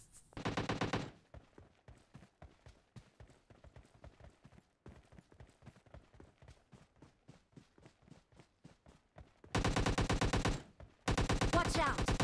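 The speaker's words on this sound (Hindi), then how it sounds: "फिर एक फायरिंग की आवाज़ आती है।" Gunfire in the mobile battle game PUBG Mobile Lite: a long run of single, evenly spaced shots with a steady beat, then loud automatic bursts near the end, with no voices over it.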